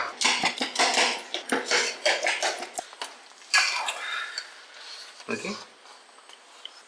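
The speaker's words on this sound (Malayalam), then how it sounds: "ഇതിനകത്ത് ഉടയാത്ത കപ്പയൊക്കെ നമുക്കൊന്ന് കുത്തി കുത്തി ഒന്ന് ഉടച്ചു കൊടുക്കാം" Cooked tapioca being mashed in a pan for Kerala kappa biriyani, a run of quick, close metallic jabs and scrapes of a spoon against the pan, loud at first and then thinning into scattered taps with a brief low thud near the end.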